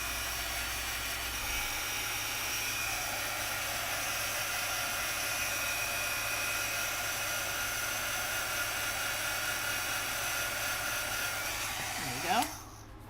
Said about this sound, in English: let's get this heat tool warmed up